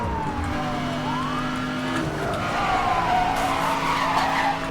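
A car in Need for Speed: Hot Pursuit (2010) slams into a civilian car amid continuous engine roar, screeching tire skids and a wailing police siren, loud and steady throughout with no talk.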